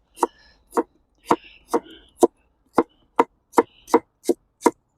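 Sharp, evenly spaced knife chops on a cutting board slicing vegetables, about a dozen crisp strikes in a steady rhythm, close and clear.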